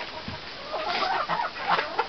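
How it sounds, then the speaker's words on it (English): Chickens and a young rooster cluck and murmur softly nearby in a steady, busy stream of short throaty calls, with no one talking. "this little rooster right here is his son"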